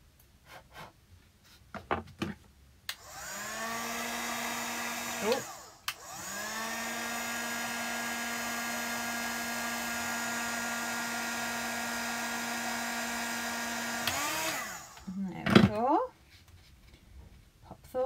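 A heat tool for embossing blows on a stamped card, running as two steady whirring, whining bursts with a short pause between them, with quiet handling noises around them.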